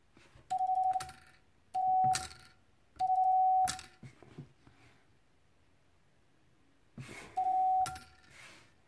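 A 1938 Mac Elroy semi-automatic telegraph key (bug) being adjusted sends four short bursts of a steady beeping tone, each edged with sharp mechanical clicks and separated by quiet pauses.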